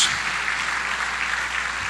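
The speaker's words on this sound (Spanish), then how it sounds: "dele un aplauso al Señor" Church congregation applauding during a Spanish-language worship service, a steady dense wash of clapping from many hands held at even loudness throughout, with no break.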